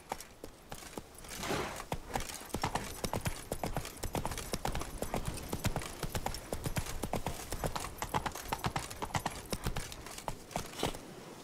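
Horse hooves clip-clop in The Witcher 3: Wild Hunt, a fast, steady trotting rhythm of many close, crisp hoofbeats that continues for several seconds without pause.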